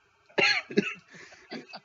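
A man gives a couple of harsh coughs close to the mic, followed by smaller throat-clearing bursts, in an otherwise quiet room.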